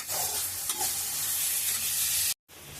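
Onions, curry leaves and ginger garlic paste sauté in hot oil in a kadai, a steady loud sizzle with a few stirring scrapes, then a brief cut before the frying resumes.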